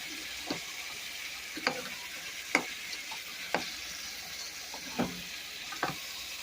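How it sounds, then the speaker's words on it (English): Beef stew meat frying and browning in a hot pan on high heat alongside partially cooked vegetables and onions, a steady sizzle broken by several sharp crackles and stirring scrapes spaced a second or so apart. "And just go ahead and cook that till it gets nice and brown, the meat."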